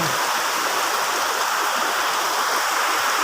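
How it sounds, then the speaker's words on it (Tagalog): Heavy rain pours down on a farm amid gusting wind, a dense, continuous rushing hiss that stays even and loud throughout with no voices. "Oh, lakas kasi ng ulan."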